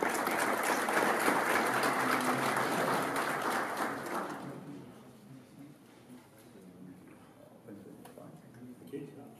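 An audience at an agricultural research event claps to welcome a speaker, with dense, fairly distant applause for about four seconds that then fades away, while a voice speaks underneath.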